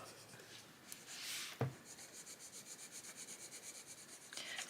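A sharp coloured pencil colours in small areas of an adult colouring page, its tip rubbing against the paper in quiet, close scratchy strokes that settle into a steady back-and-forth rhythm.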